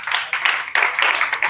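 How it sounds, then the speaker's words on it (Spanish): Brief, brisk applause from a small audience in a class, a quick burst of clapping that stays fairly loud until it cuts off. "Un aplauso para doña Lucre."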